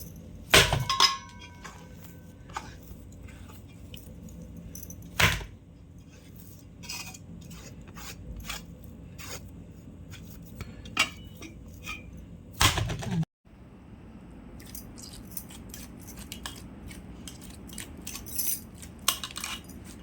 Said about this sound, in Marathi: मारून घ्यायचं म्हणजे असं जोरात आपटायचं